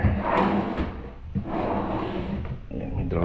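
Drawer sliding open or shut inside a newly finished 54 sqm two-bedroom house, giving a rough, scraping rumble with a couple of louder bumps, close and fairly loud with no talk.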